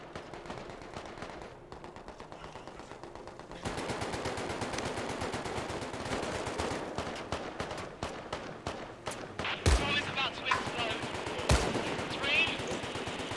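Gunfire from the Medal of Honor: Above & Beyond VR game rattles in rapid bursts, with a few sharp louder shots standing out, while players talk over the action.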